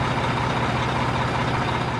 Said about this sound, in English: A wheel loader is a heavy equipment vehicle that's used to load and transport materials, and perform other tasks.